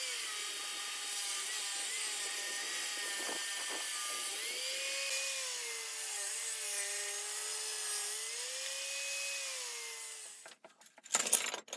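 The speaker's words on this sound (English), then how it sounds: "Then I'll take the boards back outside and cut them down to even strips." A power saw rips wooden boards outdoors into even strips for an end grain cutting board, a sustained whining cut whose pitch wavers as the wood feeds through, ending abruptly with a few clunks.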